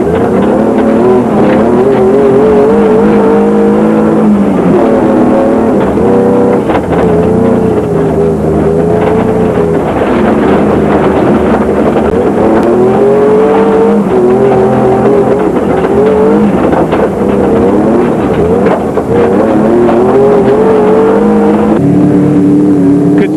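Jeep Cherokee rally car driven hard on a muddy off-road stage, its engine roaring loudly and continuously, rising and falling as it revs through gears, close onboard and without pause.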